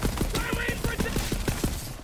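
Rapid gunfire in the shooter game Borderlands 3, about a dozen sharp evenly spaced shots in a quick burst, loud and close, with game sounds layered under them.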